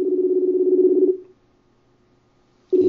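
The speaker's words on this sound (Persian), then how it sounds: "با فیسبوک باشون تماس میگیرم" A Facebook call dials out with a steady, loud ringback tone that lasts about a second, then a pause of silence, and then the tone starts again.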